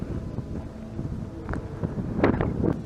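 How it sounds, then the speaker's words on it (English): Wind buffeting a microphone outdoors at night, a steady low rumble with gusty bursts that grow stronger near the end, alone with no voices. "Hopefully this wind doesn't mess up the audio too bad."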